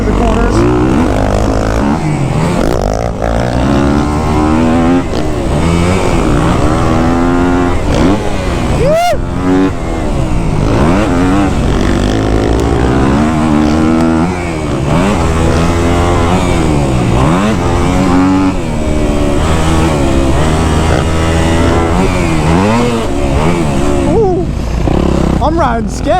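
A Kawasaki KX250F dirt bike engine under riding, loud and close, its revs rising and falling continuously as the rider works through corners, with a voice talking over it.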